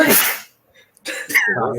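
A single sharp sneeze bursts out up close, followed after a short pause by someone speaking.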